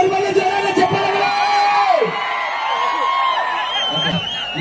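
A crowd cheers for a singer, with whoops and shouts rising over a sustained tone and a sliding whistle-like sound. Someone speaks over the cheering.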